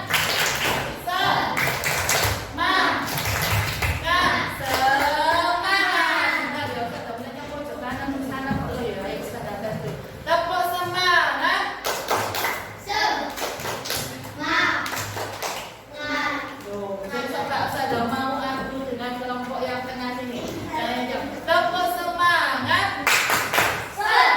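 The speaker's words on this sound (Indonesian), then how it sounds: "Kalau ya tepuk semangat" Primary-school class performing a rhythmic enthusiasm clap routine, a burst of patterned hand claps and taps with children's voices over much of it.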